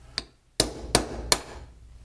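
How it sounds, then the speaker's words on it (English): Three loud, sharp hammer blows, preceded by a lighter tap, knock a scored knockout piece out of a powder-coated metal box, each strike ringing briefly and decaying. "So I just kind of score it and then hit it really hard with a hammer."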